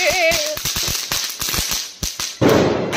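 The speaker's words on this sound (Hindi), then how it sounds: "अब फटाके फोड़ने का टाइम है" Firecrackers set off for Choti Diwali, a rapid series of sharp close cracks and pops in quick succession, with a louder burst near the end and a brief whistle at the start.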